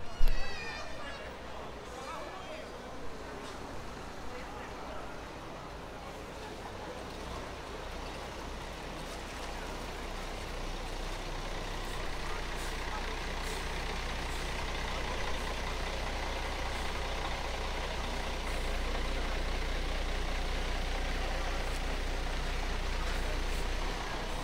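Buses and trucks idle at a small bus station in the centre of Boa Esperança, Espírito Santo, Brazil, a continuous low engine rumble with faint street noise, steady throughout.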